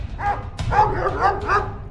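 Cartoon dogs in a Hindi comedy cartoon bark several times in quick succession, loud and close, with yelping tones and a whimpering edge.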